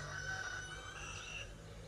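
A rooster on a farm in France crows in one drawn-out, strained call at a moderate distance over steady outdoor background noise, with no talk.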